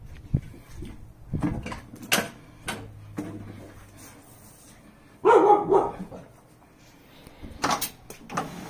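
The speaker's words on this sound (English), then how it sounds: "Why do you keep barking, man?" A dog barks intermittently nearby, a few sharp yaps spaced out, then one louder burst of barking partway through, with clicks and knocks in between.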